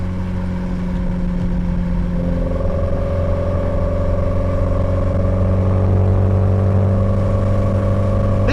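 A Maserati's engine drones steadily and loudly while driving, with sustained harmonic tones rising slightly as it revs, close and continuous without any talk.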